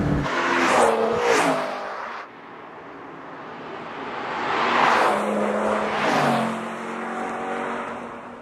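A twin-turbocharged BMW M car, a 1 Series M Coupe, revs and accelerates in two sharp bursts, then drives on with a steady engine drone that swells again and fades, close and fairly loud.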